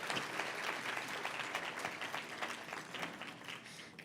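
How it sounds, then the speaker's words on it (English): An audience at a birthday celebration in Leicester applauds Balvikas children after their dance, a steady round of crisp clapping that tapers slightly near the end. "Can we please give our Balvikas children a round of applause?"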